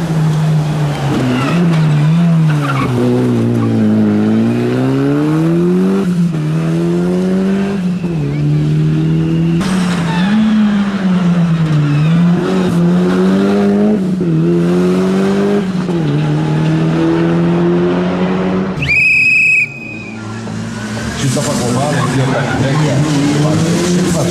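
A Mazda 323 GTX rally car engine revs hard through a sharp left turn on a rally stage, pitch rising and falling with gear changes, then a brief high tire screech from the handbrake slide, all under continuous commentary.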